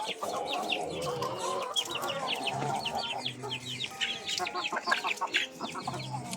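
Several chickens cluck and chatter close by in a steady, overlapping flock, with no talking.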